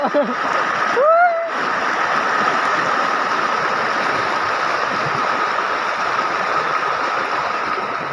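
Kakkalameli falls roars after heavy village rain, a dense, unbroken rush of water that stays loud and even throughout, with a brief voice near the start.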